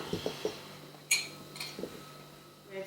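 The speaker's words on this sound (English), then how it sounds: "all we're going to do is put everything into the big mixing bowl" Fats and flour for Cornish pasties are tipped into a big mixing bowl, giving a few light clinks and taps on the bowl with soft rustling between them.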